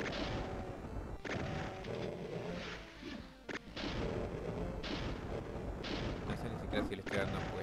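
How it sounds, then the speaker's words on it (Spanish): Shotgun fire in Doom, repeated heavy blasts every second or so amid a dense, loud barrage of in-game combat noise, with a voice talking over the action. "es una escopeta"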